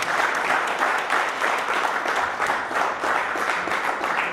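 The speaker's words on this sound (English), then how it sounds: "Give the sponsors a round of applause" An audience applauds steadily at a sports awards ceremony in Jamaica, a dense, continuous wash of many clapping hands at even loudness throughout, with no voices rising above it.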